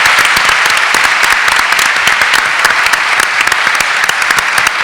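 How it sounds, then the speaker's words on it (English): Loud, dense round of audience applause for a panel moderator, Professor Parker, at an evening event on media coverage of the Arab world; sustained vigorous clapping from a large crowd for the whole stretch. "give a big round of applause for Professor Parker"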